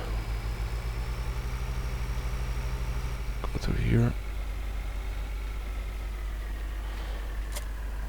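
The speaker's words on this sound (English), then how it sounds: "We're gonna pick up that weight with this tractor" A tractor engine idles with a steady low drone in Farming Simulator 2013, with a brief louder surge midway, while someone talks over it.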